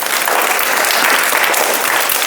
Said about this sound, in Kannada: ಎಲ್ಲರೂ ಸಮೃದ್ಧಿಗೆ ಕೃತಿಗೆ ಚಪ್ಪಾಳೆ ತಟ್ರಿ